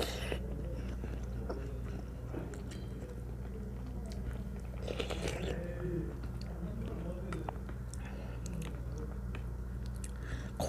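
Eating a Korean cod clear soup (daegu malgeun-tang) with seasoned water parsley (minari): close, steady chewing and biting sounds with occasional slurps and crunches, continuous through the clip.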